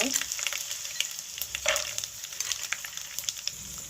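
Urad dal and chana dal frying in hot oil with mustard seeds and peanuts in a pan for vangi bath, a close continuous crackling sizzle with quick popping and a brief stirring scrape.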